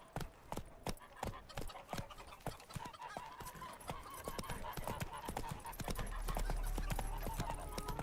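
Roach the horse gallops in The Witcher Wild Hunt, a rapid, steady run of hoofbeats close by, growing slightly louder and denser toward the end over a low rumble.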